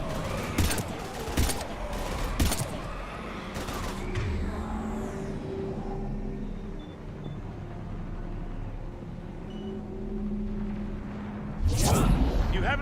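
Gunfire in the Mass Effect 3 video game: a cluster of sharp shots early on, then a lull of ambient rumble and voices, and another loud burst near the end.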